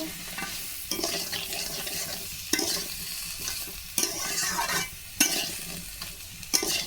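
Green chilli and turmeric frying in a pan for a papaya and shrimp curry, continuous soft sizzle with a spatula scraping in repeated strokes about every second.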